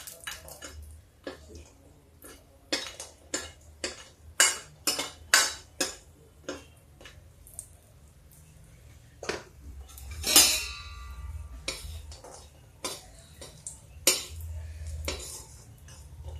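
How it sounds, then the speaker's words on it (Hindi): Lentil nuggets (badi) being fried and stirred with onion, garlic and chilli in a pan with little oil, giving sharp metallic scrapes and clinks of a spoon against the pan at an irregular pace over a faint low hum. "उलट पलट के भूनना पड़ रहा"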